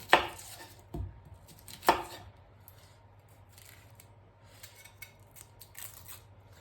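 A red onion being peeled by hand in a home kitchen: a few sharp crackling snaps and knife-like cuts near the start, then softer rustling of papery skin, close and fairly quiet, with no talking.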